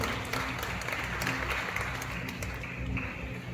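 Church congregation clapping during a sermon, a brief steady patter of applause from many hands filling the room, fairly faint and continuous.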